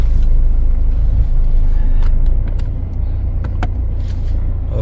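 Heavy road traffic rumbles outside a Tata service center, a loud, continuous low drone of passing vehicles with a few faint clicks and knocks nearby.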